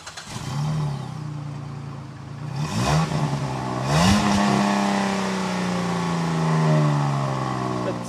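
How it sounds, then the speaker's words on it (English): A Jeep Commander's 3.7-litre V6 engine cranks and catches with a brief rev, then settles into a steady, smooth idle close by, with a couple of throttle blips. "Let's fire it up and see how it sounds."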